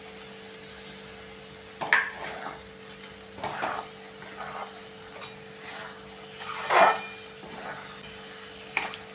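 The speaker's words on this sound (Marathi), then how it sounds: "आता हा चांगला कोरडा होईपर्यंत आपण असाच गॅसच्या हाय फ्लेमवर हलवत राहायचा आहे" Egg bhurji being stirred in a pan over a high gas flame, with soft scraping and a few sharper spatula knocks against the pan over a faint, steady sizzle.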